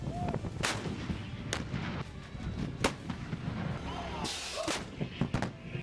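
M777 howitzer artillery fires in several sharp booming reports at uneven intervals, each a sudden crack, heard over a continuous rumbling background.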